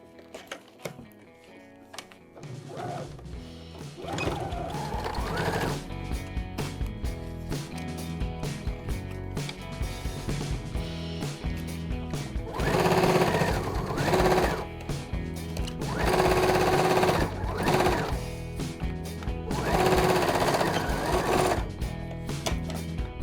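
A sewing machine runs in a steady buzzing burst as it stitches a lining closed during a creative sewing workshop, then repeats in several longer loud runs with short pauses between, close and without talk.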